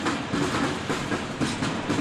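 Kanawha River Railroad train rolling steadily along the rails close by, a loud continuous rumble with rhythmic clickety-clack of wheels over joints.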